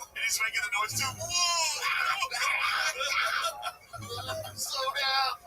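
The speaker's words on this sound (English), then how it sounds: "Everyone just screaming." Crowd of people screaming at the St. Louis Zoo, a chaotic, continuous tangle of high-pitched shrieks and wails from several voices, loud and close, with occasional low thumps underneath.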